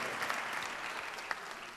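Dense, continuous applause from an audience fills the space at moderate distance, a steady wash of many hands clapping at a comedy sketch event with a single sharper clap standing out near the end.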